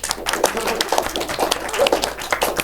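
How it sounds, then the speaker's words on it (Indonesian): A group of young participants applauds in a short, busy patter of claps, close and moderately loud, with voices mixed in. "Guys, tepuk tangan dulu."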